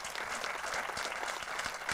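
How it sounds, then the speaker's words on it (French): A crowd applauds steadily, a dense patter of many hands clapping at even loudness throughout. "Tous les gens qui sont là vont t'applaudir."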